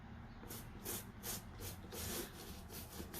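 Sealer brushed onto suede or nubuck sneakers during a repair, heard as rhythmic scrubbing strokes, about six soft broadband swipes repeating every half second, close and fairly quiet with no talking.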